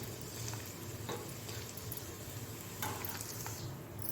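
Turmeric tipped into hot oil for a tempering (bagara) for raw mango chutney, giving a soft, steady, fairly faint sizzle that carries on evenly without pause.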